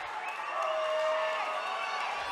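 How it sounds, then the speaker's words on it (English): At a Coastal Combat fight event, a distant crowd roars in sustained cheers and shouts, a steady wash of noise with no single voice standing out. "the crowd erupts"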